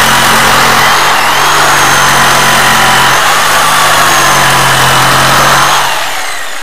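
A power tool's engine runs loud and steady close by during drywall and metal-stud work, then winds down and stops near the end.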